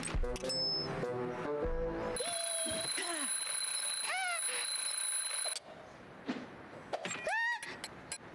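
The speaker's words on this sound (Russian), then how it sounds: "И теперь использовать будильник на то-то." Alarm clock rings in the video game Lost in Play, a bright sustained electronic ringing over game sound effects and cartoon chirps, followed by further short squeaky effects.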